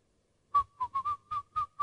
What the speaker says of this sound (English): I whistle a happy tune.